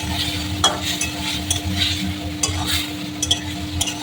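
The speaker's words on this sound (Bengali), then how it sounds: "একটু হালকা জল দিয়ে দিলাম, আর একটু কষাই।" A spice paste with a splash of water and green chillies is stirred and fried in a kadai with a little oil, sizzling continuously while a utensil scrapes and clacks in irregular strokes, close and fairly loud.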